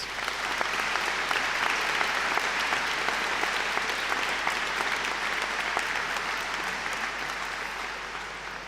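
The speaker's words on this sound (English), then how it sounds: "Can we have a round of applause for them, please?" Dense, loud applause from a large audience at a university graduation ceremony, a continuous roar of many hands clapping that holds steady and tapers slightly toward the end.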